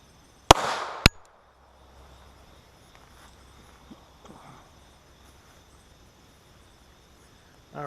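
Two sharp, loud .45 ACP pistol shots with 250-grain +P loads crack close together near the start, then fade into quiet outdoor ambience with insects and faint distant pops.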